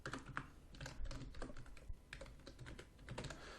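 Rapid typing on a computer keyboard while coding, with dense, uneven bursts of close keystroke clicks and brief pauses between flurries, no voices.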